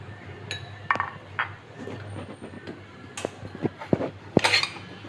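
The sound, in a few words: handling an idli plate being greased with oil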